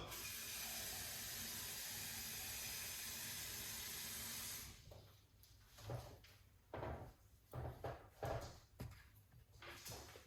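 Water runs steadily into a container for several seconds, then stops, followed by a few quiet clunks and knocks of handling in a kitchen.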